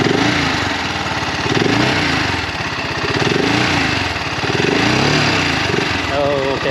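A red BSA Gold Star 650 motorcycle idles close by with a steady, loud, throbbing thump, its engine vibration shaking the recording phone, and no talk over it.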